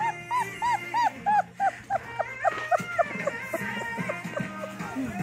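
German shepherd puppies whimper and yip in a run of rising, wavering cries, close and fairly loud, with a person speaking softly now and then.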